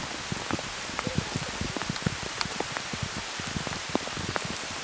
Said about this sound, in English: the rain started to come down harder